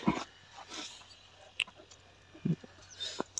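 A tired dog on a porcupine hunt in rural Punjab gives a few short whimpers and yelps scattered among brief sniffs and rustles, fairly close against a quiet outdoor background.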